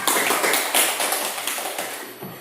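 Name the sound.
classroom applause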